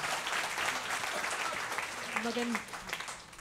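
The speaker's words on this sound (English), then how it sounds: "Please, let's give a warm round of applause for Joey Cartina" At a book launch, the audience gives a warm round of applause for a poetry reader, a fairly steady patter of clapping with a voice briefly audible over it near the end.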